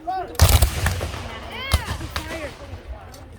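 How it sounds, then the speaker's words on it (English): Blank gunfire at a Civil War re-enactment, several sharp cracks at irregular intervals, some close and loud and others more distant, with voices talking between the shots. "Okay, we're going to use some gunfire, but it's not going to be that loud."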